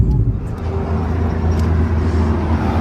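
A car rolls past on the road with a loud, continuous low engine rumble and broadband road noise that hold steady throughout, with no voices heard.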